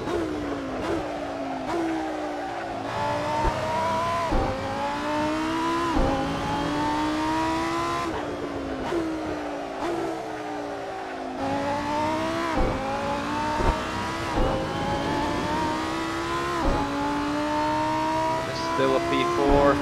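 A Lamborghini Huracan Super Trofeo races around Estoril in Assetto Corsa, its engine revving up and dropping repeatedly through gear changes, with occasional tyre noise and a voice talking at times.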